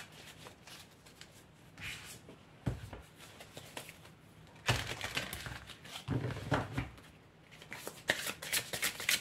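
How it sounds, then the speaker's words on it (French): Oracle cards shuffled and drawn by hand, a run of dry riffling and flicking bursts with soft slaps between them, close and fairly quiet. "Alors, on va tirer d'autres cartes."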